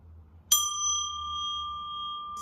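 A small bell is struck once and rings out with a clear, sustained tone that slowly fades.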